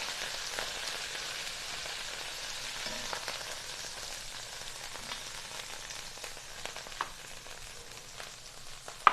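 Spiced pork chops sizzle steadily in a hot cast iron pan, a soft, even crackle with scattered pops that continues for several seconds, ending in a sharp clack.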